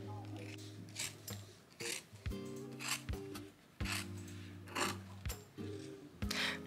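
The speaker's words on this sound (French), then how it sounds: "on va venir découper chaque pièce l'une après l'autre" Scissors cut out skirt fabric pieces that have been pinned to a sewing pattern, giving repeated close snips and rasping slides across the cloth at an irregular rhythm.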